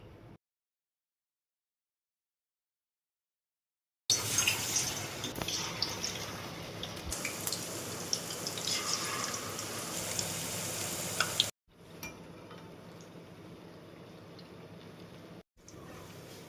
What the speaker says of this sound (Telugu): ఒక్కొక్క ఆకు తీసుకొని వామాకుని బ్యాటర్లో ముంచేసి మనం డీప్ ఫ్రై కోసం పెట్టుకున్న ఆయిల్లో వేసేసుకొని సిమ్లో పెట్టి ఫ్రై చేసుకోండి.